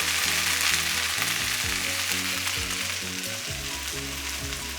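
Onions sizzling and frying steadily in a pan while cooking for zrazy, a loud close hiss of bubbling fat that stays continuous and even, alongside a low tonal background hum and no voices.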